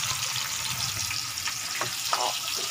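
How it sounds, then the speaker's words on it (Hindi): Saag sarson frying lightly in a pan gives a steady, close hiss of sizzling oil with faint stirring scrapes, heard alone and without talk. "हम इसको हल्का सा फ्राई करेंगे"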